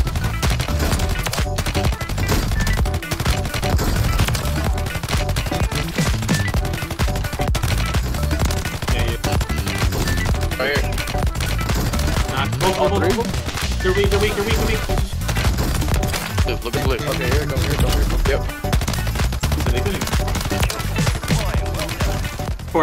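DG-58 LSW light machine gun in Warzone 3, Call of Duty, fitted with a suppressor, firing rapid sustained bursts with dense, steady clatter, loud and continuous across the whole stretch.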